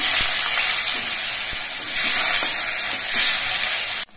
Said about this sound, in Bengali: এবারে এই মাছ ভাজা তেলের মধ্যে আমি পটলটা ভেজে নিচ্ছি।